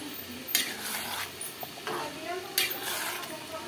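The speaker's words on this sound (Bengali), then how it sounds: "মশলা ভাজি পেলাই" Chicken with masala spices frying in a pan for biryani, a soft sizzle under repeated scraping stirs and utensil clatter, fairly faint and close.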